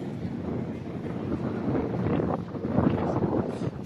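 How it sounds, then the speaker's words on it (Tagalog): Strong wind at sea buffets the microphone in a constant, gusting low roar that swells and eases over a few seconds, with no voices. "And then, medyo malakas yung hangin."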